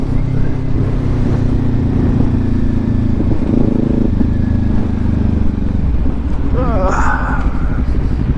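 A 2018 Kawasaki Ninja 400 being ridden on a commute, its engine droning steadily with wind rush, loud and close, and someone talking over it.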